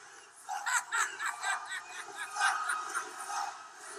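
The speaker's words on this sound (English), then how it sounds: "He's got this "You Suck" chants from the crowd" Wrestling arena crowd at WrestleMania XIV during Undertaker vs. Kane, chanting "You suck" in a steady rhythmic pulse of massed voices, moderately loud and somewhat distant, with jeers and laughter mixed in.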